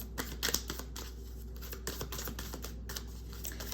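Soft, quick papery riffling and tapping of tarot cards being shuffled, close by, in irregular bursts with no talking.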